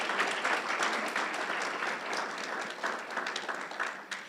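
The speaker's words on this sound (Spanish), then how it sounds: "Un aplauso al Señor esta mañana" A church congregation claps together in steady, sustained applause that stays loud and dense throughout, with a few individual claps standing out near the end.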